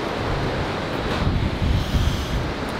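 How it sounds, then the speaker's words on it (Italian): Strong wind at sea near Madagascar batters the microphone with a continuous loud, dense rumble and roar that swells slightly midway, mixed with a broad surf-like hiss. "Io spero che mi sentiate con tutto questo vento."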